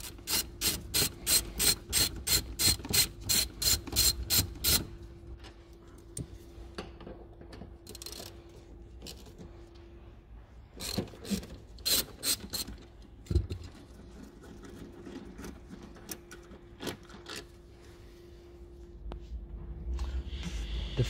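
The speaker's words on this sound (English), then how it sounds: "Undo both of those." A hand ratchet rapidly clicks while undoing M12 spline bolts on the front seat rail of a VW Tiguan Mk2, a fast close burst of clicks followed by scattered scrapes and further short ratcheting bursts.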